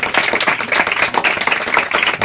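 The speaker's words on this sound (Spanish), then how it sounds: "un aplauso para aquí los integrantes que se esmeraron" Applause for children dressed in costumes at a folk festival, steady loud clapping from a close crowd lasting a couple of seconds with no talk over it.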